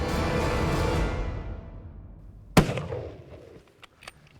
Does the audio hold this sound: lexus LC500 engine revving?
no